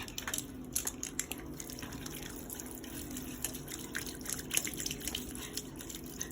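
Makeup brushes are washed with water, producing soft continuous trickling and dripping with small splashes and squishes, close and fairly quiet.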